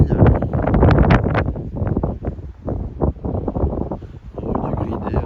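Strong wind on a hilltop buffeting the microphone in loud, irregular gusts and rumbling bursts, with no voices.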